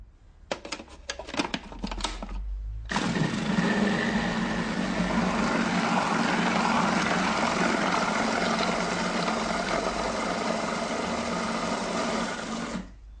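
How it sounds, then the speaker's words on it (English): A kitchen mixing machine blends chocolate loaf cake batter, starting with a few sharp clattering bursts before settling into a loud, steady motor whir that runs continuously for about ten seconds, close and alone. "the cake just gets mixed up straight in this machine and is done in one go"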